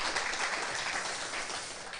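An audience claps steadily and fairly loudly for a guest poet at a talk-show taping, a dense continuous wash of applause with no talk over it.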